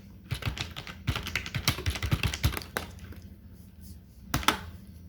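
Keystrokes on a computer keyboard entering a terminal command, a quick run of close, crisp taps followed by a pause and a short final burst of clicks.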